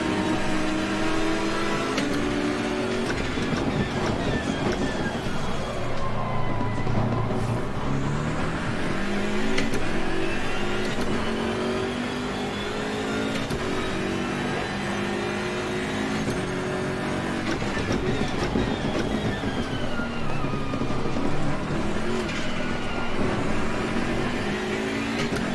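Race cars howl through gear changes in Assetto Corsa Competizione, an Audi among them, with engines rising and falling in pitch continuously, loud and close throughout without any voices.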